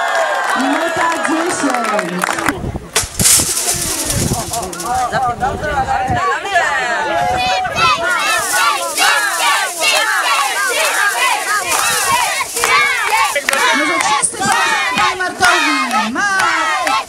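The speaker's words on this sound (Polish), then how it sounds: "Brawa wielkie." Crowd at a neighbourhood event claps and cheers loudly for a sustained stretch, a dense roar of applause and shouting with an amplified announcer speaking over it.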